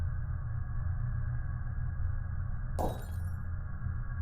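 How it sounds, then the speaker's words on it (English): A glass cup smashes on a kitchen floor, heard as a single sudden crash with a brief tinkling tail over a steady low hum. "I heard one of my glass cups smashing on the kitchen floor downstairs"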